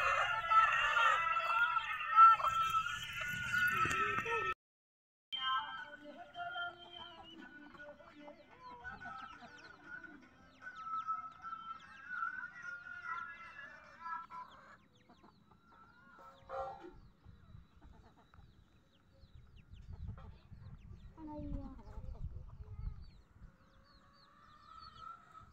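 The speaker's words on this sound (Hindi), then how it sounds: "ये देखिए कितना बड़ा मुर्गा है" Chickens and a large rooster kept at a home yard cluck steadily and crow nearby, with loud calls at first and quieter clucking later. Occasional voices sound faintly in the background.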